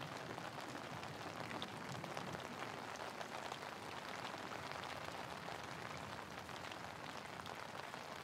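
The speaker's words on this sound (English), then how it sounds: "The pitter-patter of raindrops tapping on your jacket and umbrella" Steady rain pattering on a jacket and umbrella on a walk, a dense, even hiss of countless small drops, soft and continuous without any voices.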